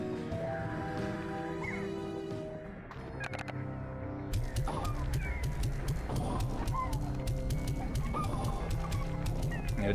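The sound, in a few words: chickens clucking in the video game Slime Rancher 2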